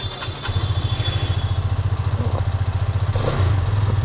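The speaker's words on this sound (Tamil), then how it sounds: "ஓகே, வண்டி பயங்கரமாக ஃபயர் ஆகுது." A Hero Karizma XMR 210 motorcycle engine fires up, catching after a brief crank and settling into a close, rapid, even thumping idle that grows slightly stronger toward the end.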